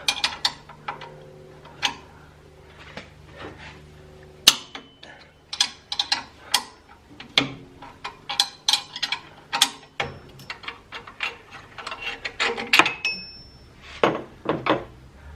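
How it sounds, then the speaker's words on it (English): A 16mm ring spanner turning a bolt on a V8 car alternator, giving a run of sharp metallic clicks and ratcheting taps in uneven bursts, close up, with some faint background noise between them. "we're using a 16mm ring spanner just to get a lot more force onto the actual bolt"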